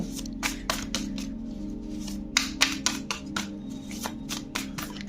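Tarot cards are shuffled and drawn by hand, giving soft papery riffles and light slapping taps in quick irregular bursts, close and fairly quiet, with no talking.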